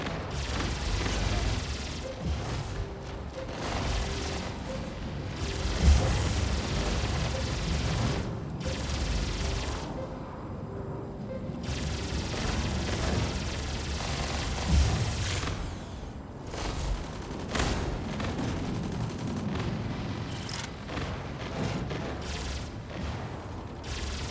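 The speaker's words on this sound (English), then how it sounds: "I love when that pulse cannon works" A pulse cannon fires in a video game, a dense stream of loud, overlapping blasts and booms rolling almost without pause, with sharper impacts standing out now and then amid the continuous barrage.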